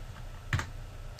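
A computer keyboard is typed on while entering numbers in Excel, a couple of sharp close key clicks in a quiet room.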